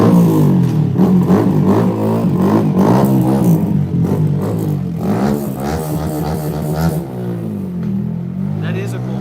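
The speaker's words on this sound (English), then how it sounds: "when you listen, you say, oh my gosh, that's a heck of a bike" A heavy motorcycle engine revs hard and loud throughout, with rising and falling throttle sweeps and a steady rumble, heard up close with no talking over it.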